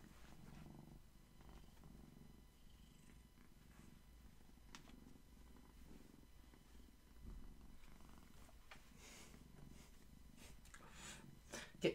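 A cat purrs quietly and steadily up close in a calm indoor room, a soft continuous low rumble with slight rustling and a small bump near the end.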